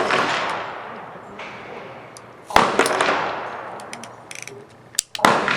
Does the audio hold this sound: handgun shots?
yes